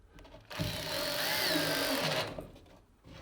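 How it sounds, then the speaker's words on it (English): A power drill drives screws through drywall into block for an in-wall speaker backbox, making one close, whirring motor burst of about two seconds that rises and then stops. "So I'm just going to go and put a couple of screws up there, bring that right to that edge."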